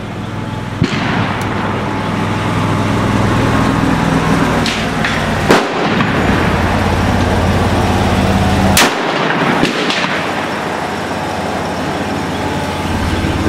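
A Bergara BCR 20 Custom .308 rifle fitted with a muzzle brake fires sharp, loud shots, two clear blasts several seconds apart over a constant outdoor roar of wind or background noise.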